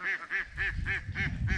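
Ducks quacking in a steady run of about six loud, nasal calls at an even rhythm, close by, on a farm in the Pyrenees mountains.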